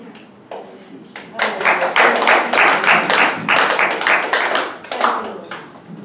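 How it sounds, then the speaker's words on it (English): Hand clapping from a church congregation during a Wednesday worship service, a dense run of many hands clapping that swells loud and steady for several seconds, with a brief pause before another burst. "Another hand clap."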